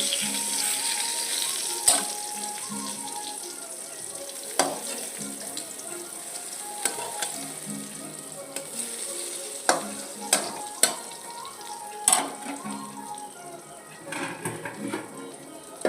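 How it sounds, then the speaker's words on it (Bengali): Eggplant slices sizzle in a pan of oil while they are turned, a steady close fry broken by sharp clacks and scrapes of a spatula against the pan. "ঢাকনিটা খুলে এবারে একটু উল্টে পাল্টে দেবো বেগুনগুলো"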